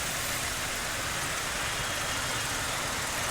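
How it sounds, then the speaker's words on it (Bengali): A Suzuki Gixxer motorcycle engine runs steadily throughout, a constant close mechanical drone with broadband noise and no clear revving or talking. "বহুত দিন পরে জিগজার চালাইতেছি"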